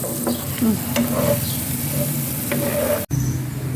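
Margarine melting and sizzling in a hot pan while making buffalo wings, a steady close frying hiss with occasional light stirring scrapes and a brief dropout near the end.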